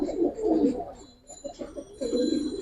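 Giribaz pigeons coo repeatedly in low, throaty, rolling phrases, close by, with short pauses between bursts and faint background noise.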